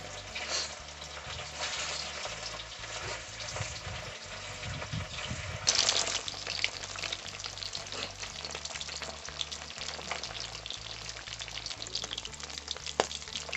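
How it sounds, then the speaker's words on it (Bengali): Marinated katla fish pieces frying in hot oil in a pan, a steady loud sizzle throughout with occasional bursts and stirring clatter, no talk. "এবারে আমরা দিয়ে দিচ্ছি এক এক করে ম্যারিনেট করে রাখা মাছ"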